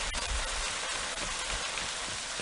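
Steady rain falls in an even, dense hiss with no breaks, close and constant throughout.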